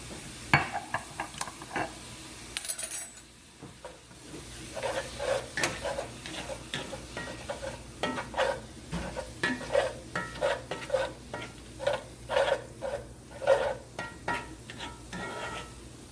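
Ground meat browning in a pan for homemade shepherd's pie, with a soft steady sizzle broken by repeated scrapes and taps of a utensil stirring against the pan.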